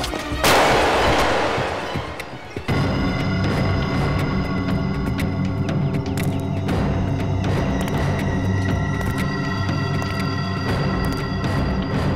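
Gunfire in a desert hideout scene: a loud burst of shots at the start, then a dense, sustained layer of sound with sharp cracks continuing to the end.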